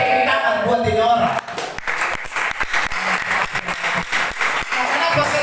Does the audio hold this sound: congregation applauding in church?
yes